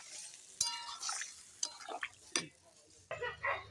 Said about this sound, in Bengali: ঝোলটা দেওয়ার পর আমি ভালো করে নেড়ে নিলাম